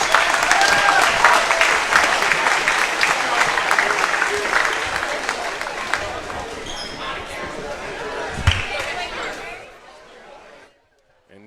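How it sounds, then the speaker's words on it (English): A crowd at a high school boys basketball game applauds the seniors, with sustained clapping and chatter in the gym for around nine seconds before it dies away into quiet. "Let's give our seniors a round of applause for their dedication over the years."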